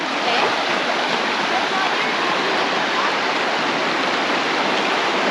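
Elk River rushing past a campsite at the base of a snow-capped mountain, a dense, steady roar of flowing water that fills the scene without a break.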